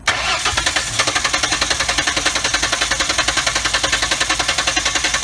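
A car engine cranks over steadily during a battery voltage drop test, a loud rapid rhythmic whirring of the starter motor that goes on for about five seconds without catching.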